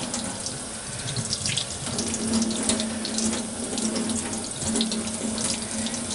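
Water pours steadily from a tap into a sink while a makeup brush is rinsed under it, a close, continuous splashing hiss with slight shifts as the flow hits the bristles and hand.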